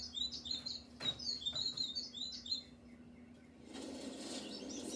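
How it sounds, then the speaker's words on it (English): Birdsong on a spring morning: several bright chirps and short trilled phrases repeat close by over the first half, then give way to a softer, steadier wash of distant calls and outdoor ambience. "In spring, you're likely to hear birds sing early in the morning."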